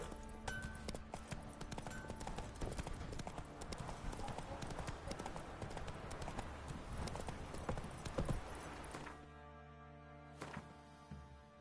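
A horse galloping in the video game The Witcher 3, rapid rhythmic hoofbeats close and loud, ending with a whinny as the pace drops, while someone talks briefly.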